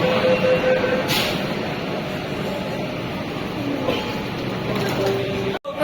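Metro train ride under the Ganges arriving at Howrah station, with a steady loud rumble of the carriage throughout and a brief dropout near the end.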